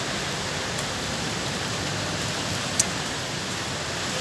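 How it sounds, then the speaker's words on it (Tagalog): Heavy rain pours in a dense, steady hiss throughout, with a faint brief knock partway through and no talking. "Ang ulan."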